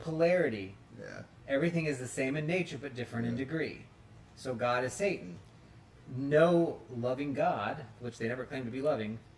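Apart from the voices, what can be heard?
No distinct noise like a dog, phone or traffic.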